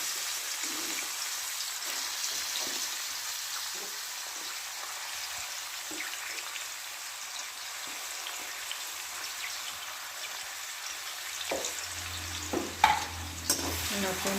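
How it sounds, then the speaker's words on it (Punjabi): Onions sizzle steadily in hot oil in a pan as a tempering for homemade noodles, with soft scrapes and clinks from stirring scattered throughout and a few louder knocks near the end. "ਪਿਆਜ਼ ਪਾ ਕੇ ਹਲਾਵਾਂਗੇ"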